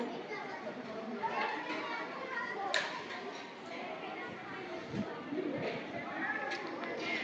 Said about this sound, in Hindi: बच्चों का शोर हो रहा है